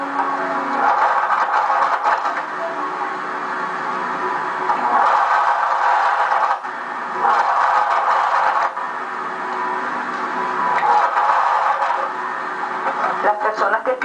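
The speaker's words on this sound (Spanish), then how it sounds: "seguimos cosiendo lo que son los laterales" A sewing machine runs in bursts while stitching the side seams of a two-piece bodysuit, with a steady mechanical whir that stops and restarts several times, close and fairly loud.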